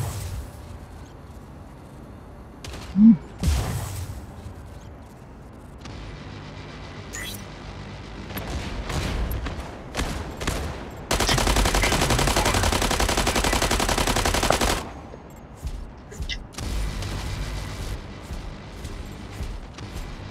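Mech gunfire in the Mech Arena video game: a heavy shot and scattered bursts, then a sustained, loud stream of rapid fire for several seconds before trailing off into intermittent shots.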